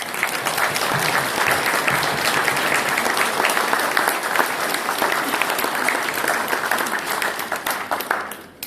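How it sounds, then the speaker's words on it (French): Audience applause after a New Year wishes speech at an association gathering: a full, sustained round of clapping from many hands, steady and fairly close, fading slightly toward the end. "Merci à eux, ils méritent vos applaudissements."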